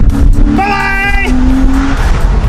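A Porsche 993 driven hard, its tires letting out a loud squeal with a rising whine over the engine noise, close and intense.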